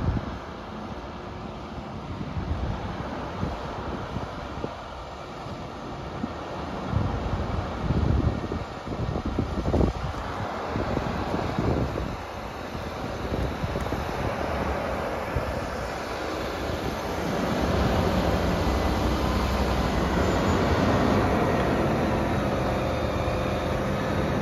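A tractor ploughing a dry field on a farm beside a cleared plantation, giving a steady engine rumble that swells and eases, with wind buffeting the microphone.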